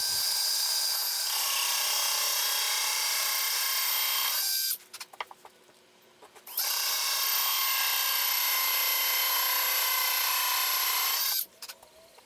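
A power drill fitted with a hole saw runs at full speed boring a door knob hole through an interior door, a loud steady high whine that stops briefly midway and then resumes before cutting off near the end.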